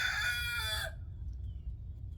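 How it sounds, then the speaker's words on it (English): A chicken pecking on an outdoor mat lets out one loud, close drawn-out call that stops abruptly, leaving quiet outdoor background. "I got a chicken over here pecking on my outdoor mat."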